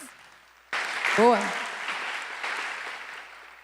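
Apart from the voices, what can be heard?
audience applause at journalism panel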